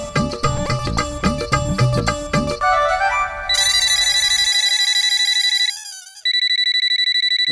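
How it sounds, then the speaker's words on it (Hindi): A phone's ringtone plays at night, a loud melodic tune that gives way to repeated electronic ringing tones, close and clear with no voices over it. "वीरे भाई का कॉल इतनी रात को?"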